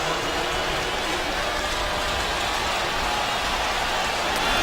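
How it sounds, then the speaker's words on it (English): Heavy rain pours down at a Florida football game, a steady dense hiss of falling water with low rumble underneath, loud and unbroken. "The skies have opened up again"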